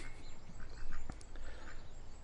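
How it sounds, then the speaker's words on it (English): Ducks quack at a park, several soft nasal calls scattered over a noisy outdoor background, fairly faint and somewhat distant. "I like those ducks."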